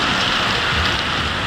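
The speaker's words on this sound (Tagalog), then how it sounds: "Wow, ulan dito." Steady rain from an ITCZ weather system hisses across the whole clip, a dense broadband wash with a low rumble underneath, heard up close in a city with no talking.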